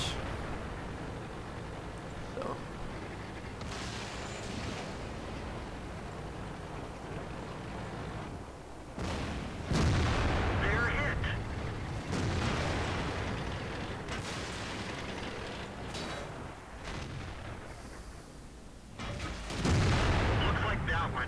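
Heavy tank cannon shots boom repeatedly in a tank video game, with deep low-end blasts over a rumbling battle background and occasional talk.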